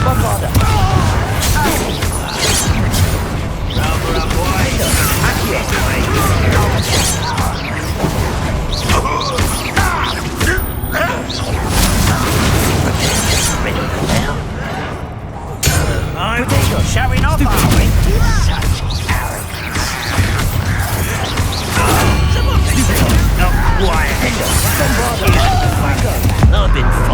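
Bombarda blasting-spell explosions in the Hogwarts Legacy game come as a dense, continuous run of booms and crashes amid combat clatter, loud and layered, with speech mixed in.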